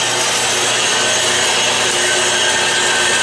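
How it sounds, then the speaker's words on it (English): A Harbor Freight bandsaw cuts through 4-inch structural steel tubing, giving a steady, loud, continuous grinding rasp with a low motor hum underneath and no break from start to finish. "the Harbor Freight bandsaw handles it very nicely, and I'm getting a nice clean cut"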